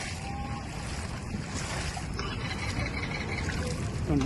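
Steady rushing of sea water surging over a flooded shore around houses, a broad continuous wash with a slight swell near the end.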